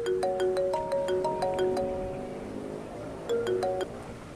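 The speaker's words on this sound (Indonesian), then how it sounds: "Bentar ya, Bu. Tak angkat telepon dulu." A phone rings with a bright, repeating electronic melody, a cluster of quick tones, a short pause, then another burst, close by and clear with no talking over it.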